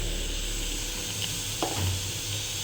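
Green chili paste sizzles steadily in a hot pan while sambar is being made, a close continuous hiss with a brief scrape of stirring near the end.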